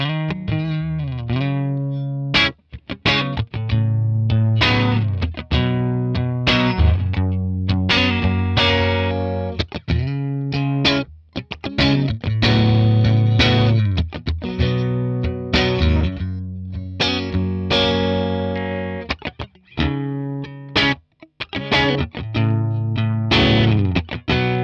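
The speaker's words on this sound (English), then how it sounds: "So let's check it out, how it sounds with the Strat." Electric guitar riffs from a Fender Stratocaster played through a capture of a vintage Fender Blonde Showman amp at edge-of-breakup, loud and continuous chords and single notes with a punchy, slightly driven tone, no talking.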